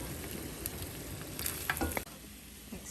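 A mutton masala roast being stirred in a pan for a Kerala-style goat roast, with a steady sizzle of frying meat and scraping stirs across the bottom, close and unbroken, no voices.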